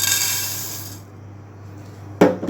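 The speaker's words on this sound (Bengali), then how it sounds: "তিসি বীজটা ঢেলে নিচ্ছি।" Flaxseeds pour into a container with a dense, hissing rattle for about a second. The noise fades, and a sharp clunk follows near the end.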